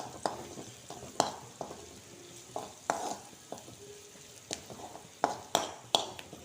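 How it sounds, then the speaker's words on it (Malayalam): Chili powder, turmeric and chili flakes being stirred in a frying pan, a low background sizzle broken by a series of irregular sharp scrapes and clinks of the spoon against the pan, close up. "ഇത് നമുക്ക് നന്നായിട്ട് ഇളക്കി കൊടുക്കാം."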